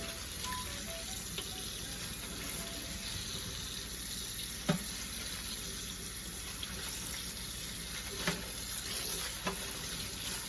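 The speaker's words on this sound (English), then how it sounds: "Rinsing with cool water, and then as the colors start to run out and the water starts to run clear," Cool tap water runs steadily while tie-dyed fabric is rinsed in a sink, a continuous close splashing flow with a few soft knocks and handling noises, no voices.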